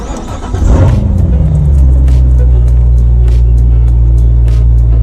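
A car nicknamed Zeus cranks and fires up, its engine catching into a loud, steady close-up idle rumble that carries on with faint clicks above it.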